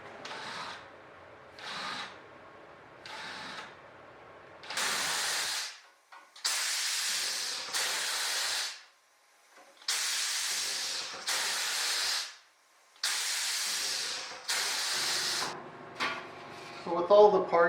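Spray gun priming aluminum airplane aileron parts in a string of short hissing bursts, a few brief ones and then longer sustained sprays separated by pauses, close and fairly loud, with no speech over it.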